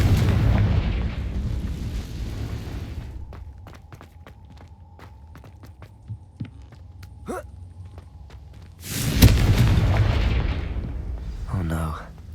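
A Confringo blasting spell in Hogwarts Legacy erupts in a loud, dense burst of explosive noise, preceded by a rumbling stretch with a series of sharp clicks and thumps, and followed by a brief lighter rattle.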